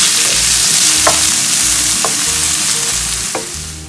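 Onion sautés in a hot pan, sizzling steadily and close, with a spatula stirring and scraping at a regular pace about once a second.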